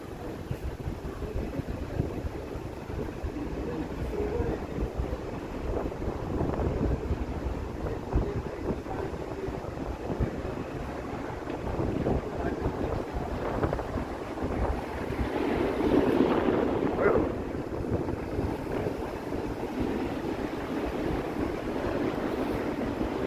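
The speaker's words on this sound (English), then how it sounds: "there's a chilly wind" Cold, gusty wind blows steadily outdoors in Toronto, rumbling across the microphone as a continuous broadband roar that swells briefly near the end, with no voices.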